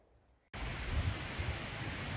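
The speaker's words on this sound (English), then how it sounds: "It is quite windy, so I apologize for any noise interference that might cause." After a brief near-silence, steady rumbling wind buffets the microphone loudly and continuously.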